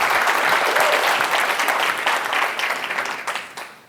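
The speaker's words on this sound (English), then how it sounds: "So give Charlie a big round of applause, please." A crowd applauds loudly and steadily, a dense wash of clapping that holds for a few seconds before thinning and fading out.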